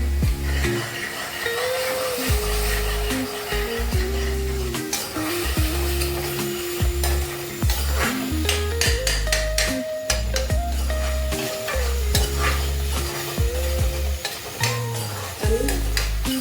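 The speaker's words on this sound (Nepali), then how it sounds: "यो प्याजहरूलाई मजाले फ्राई गर्ने है" Onions fry and sizzle in a pan as they are stirred for rajma, with occasional utensil scrapes. The sizzle is steady and sits under prominent melodic background music, with no talking.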